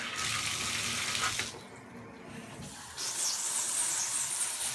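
Water gushing steadily from a Kohler shower just after a diverter install, a loud hissing spray that drops away briefly in the middle and then returns even stronger.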